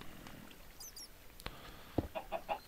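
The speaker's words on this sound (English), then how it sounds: "there might be some chickens down this hole. That's what I'm hearing." Chickens cluck in the video game Minecraft, several short, fairly faint clucks and squawks scattered through a quiet moment, mostly in the last second, with no speech.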